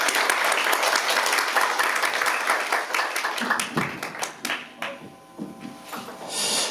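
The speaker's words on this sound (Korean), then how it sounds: "이 자리에 오실 때 큰 박수로 함께 해주시고" An audience at a Korean community council lecture in Atlanta gives warm applause to welcome a speaker. The dense clapping is steady at first, thins out into scattered claps and then swells again near the end.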